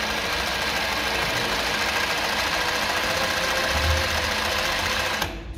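A Jack ZIGZAG 20U63 sewing machine runs a steady, continuous zigzag stitch, a loud, even mechanical whir close by that holds for about five seconds and then stops abruptly.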